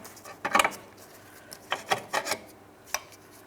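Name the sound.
removing ball joint from car control arm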